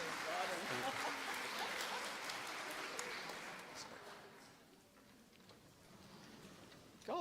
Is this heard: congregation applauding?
yes